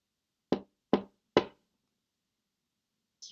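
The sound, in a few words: knocking on a door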